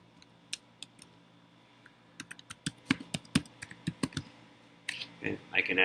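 Clicking keystrokes on a computer keyboard, typed while adding a name to an email filter list, come in scattered single taps and then quicker bursts, close and crisp against a quiet room hum.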